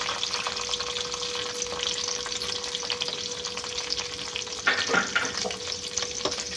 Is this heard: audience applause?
no